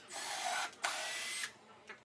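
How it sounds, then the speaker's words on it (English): A 6 mm impact drill bores holes into a wall, loud whining bursts, a long run then a short break and a second run, ending in a brief final blip. "use a 6 mm impact drill to drill holes at the marked"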